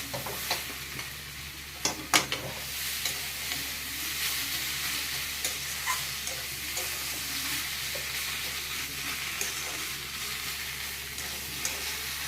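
Paneer roll filling with chili and black pepper fries in a pan with a continuous close sizzle, broken by a few sharp scraping stirs near the start and softer stirring afterward.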